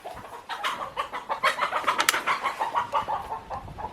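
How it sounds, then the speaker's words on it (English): Chickens cluck in bursts as a dog plays among them in a backyard, the busy bird calls close and fairly loud, with no talking. "Looks like my dog is playing with the chickens."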